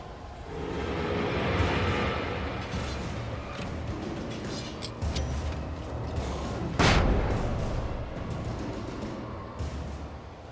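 Flashbangs go off in the Alan Wake game amid a rumbling, dense combat din, with one sharp, bright burst standing out near the end over a steady background wash.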